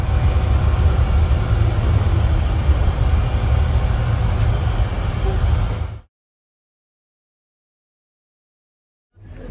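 A tour bus engine idles with a steady low rumble heading out to Altun Ha in Belize, loud and continuous for about six seconds before the sound cuts out abruptly to silence.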